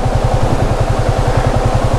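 A motorcycle engine runs at a steady idle on a forest track, its low exhaust pulses thumping in a quick, even rhythm close by, loud and alone.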